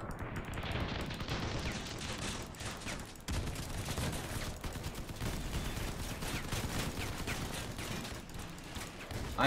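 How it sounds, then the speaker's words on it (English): Turret-mounted rockets and guns pound a convoy in the vehicle-combat game Crossout, a dense, sustained barrage of rapid gunfire bursts and rocket blasts that rolls on without pause, with one brief dip partway through. "We have rockets from turrets firing into it."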